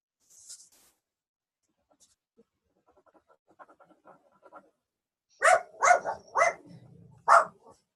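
A puppy lets out four or five loud, sharp barks in quick succession near the end, after a quiet stretch with faint soft sounds and rustling.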